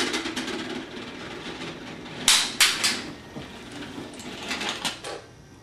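An R2-D2 replica's ring compartment mechanism closes itself, giving a series of sharp mechanical clacks and rattles close by, with quieter clicking before and after.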